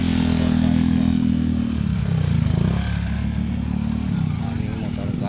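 Motorcycle engines rumble steadily close by during a town fiesta, a continuous low drone with people talking over it throughout.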